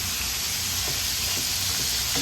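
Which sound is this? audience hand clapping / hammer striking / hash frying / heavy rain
hash frying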